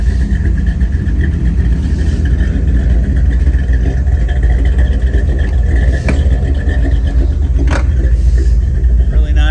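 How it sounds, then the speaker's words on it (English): A 1955 Chevrolet 210 wagon's engine gives a deep, steady rumble up close, loud and continuous with a faint rougher surge near the end. "That engine just rumbles, really sweet."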